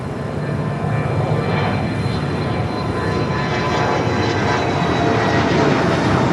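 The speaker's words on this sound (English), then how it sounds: "We'll keep an eye on that 737 MAX 8 is Cargo King being towed down Taxiway Alpha" A KLM cargo Boeing 737 MAX 8 is towed slowly down a taxiway at LAX, giving a steady, continuous rumble and whine of aircraft and ground equipment that holds level with no talk over it.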